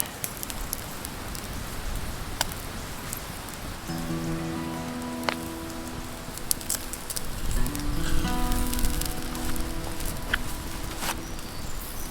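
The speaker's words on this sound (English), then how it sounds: "there's the rain, rain again" Steady rain patters on the roof of a camper van, a dense, continuous hiss with scattered sharper drops, swelling louder toward the end, while a faint tonal hum runs through the middle.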